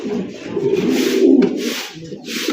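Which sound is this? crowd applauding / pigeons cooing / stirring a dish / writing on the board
pigeons cooing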